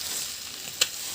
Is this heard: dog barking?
no